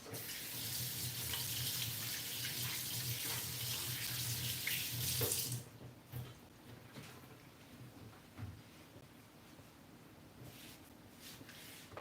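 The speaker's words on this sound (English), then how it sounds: "I'm just gonna go wash my hands real fast." A faucet gushes loudly into a sink as hands are washed, then cuts off midway, leaving quieter handling and rubbing sounds.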